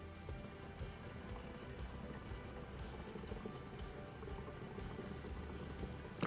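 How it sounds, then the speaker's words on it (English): Water runs steadily into the flush tank of a caravan or motorhome toilet cassette through its filler point, a continuous close pouring and trickling that holds at an even level with no talk over it. "simply fill the flush up until you can see it level with this filler point"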